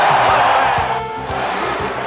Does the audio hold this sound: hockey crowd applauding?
yes